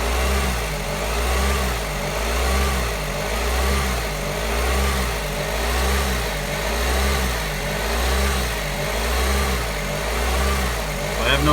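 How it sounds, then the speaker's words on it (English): A car engine idles with its electronic throttle drive cut, its speed hunting up and down in a slow, regular surge-and-dip cycle, loud and close, with no voices over it. "You can hear the car obviously hunting."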